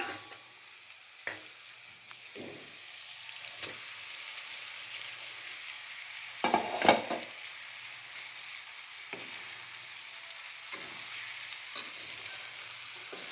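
Cooked rice stirred and fried together with masala in a pan for a variety rice dish, giving a steady soft sizzle broken by repeated scraping strokes of the spoon, several sharper clusters near the middle, with no talking.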